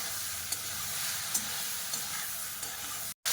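Boiled potatoes fry in a pan with a steady, faint sizzle and a few light stirring clinks. A brief drop-out comes near the end. No voices.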